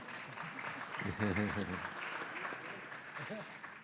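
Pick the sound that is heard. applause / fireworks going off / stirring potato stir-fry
applause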